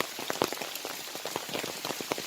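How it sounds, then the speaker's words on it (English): Heavy, continuous rain pours down at the Matheran hill station, a dense, steady patter of drops close by on surfaces, with no voices. "right now as you can see it's difficult, continuously raining,"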